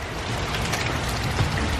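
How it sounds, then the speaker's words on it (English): Heavy rain pours steadily outdoors, a dense, even hiss of drops with no gaps, close and fairly loud, with no talking over it. "It is raining cats and dogs today."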